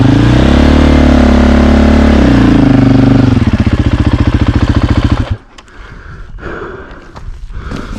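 A 2024 Husqvarna FE450 dirt bike engine blares loud and close, holding a strong steady drone, then settling into a pulsing idle before cutting off abruptly, leaving quiet outdoor rustling.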